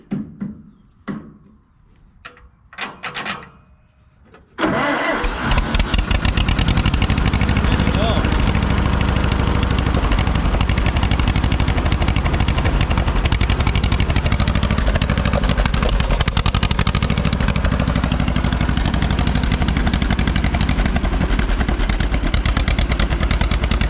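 A 1949 John Deere MC crawler, sitting unused for 20 years and leaking fuel, makes a few light clunks and then bursts into a loud, sustained rough mechanical roar that runs unbroken for nearly twenty seconds, up close.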